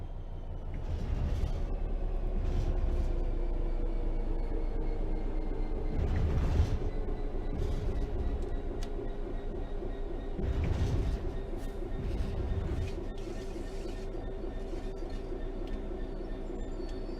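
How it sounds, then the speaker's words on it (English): Passenger train in Train Sim World 3 coasting on level ground with the throttle off, a steady low rolling rumble with faint wheel hum and occasional rail clacks, loud and continuous with no voices. "The train will then coast on level ground, and the train will only slow down very gradually."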